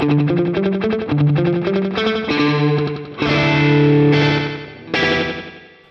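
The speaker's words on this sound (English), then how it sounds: "to its minimum, so we get like a slap echo." Distorted electric guitar chords and single notes run through a Boss Katana amp's DC-30 delay set to a short slap echo, loud and close, each strike trailed by a quick repeat and a ringing decay.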